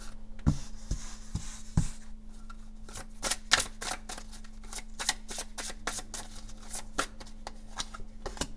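Tarot cards are drawn and handled up close, with a run of crisp, rapid card flicks and riffling snaps. Sparse taps at first give way to a dense, rhythmic flurry, all fairly quiet and without talking.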